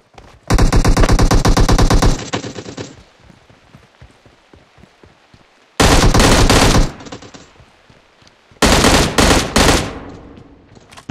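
Loud automatic rifle fire from PUBG Mobile comes in three sustained rapid bursts of shots separated by quieter gaps with faint scattered clicks and distant pops.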